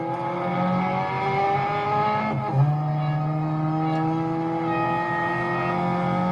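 Racing car engines in the mobile game Real Racing 3 whine and rev steadily, with rising and shifting gear tones and a brief sharp tyre-squeal burst mid-way, close and continuous with no voices.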